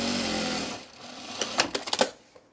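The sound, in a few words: sewing machine sewing a quarter-inch seam on a baby bag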